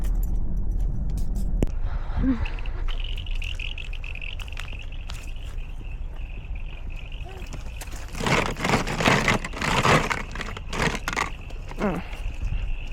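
A car drives along a road near a large roadside dump in Australia, its engine and tyre rumble steady and close throughout, with a brief jangle and a burst of louder rattling and bumps toward the end.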